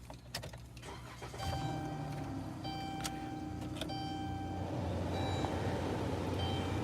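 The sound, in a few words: car being started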